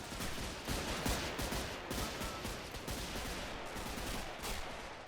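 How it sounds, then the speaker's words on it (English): Dense, continuous gunfire and rifle volleys pour onto World War I trenches in the Men of War Assault Squad 2 WW1 mod battle, with sharp overlapping shots and bursts forming a loud, unbroken barrage. "Trenches are starting to take some fire now."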